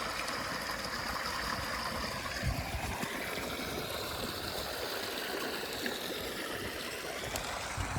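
Irrigation water flows continuously through a cumin field with a steady rushing, gurgling wash, close by and unbroken throughout, with no talking.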